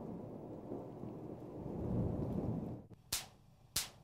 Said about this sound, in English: Lightning is a dramatic natural force.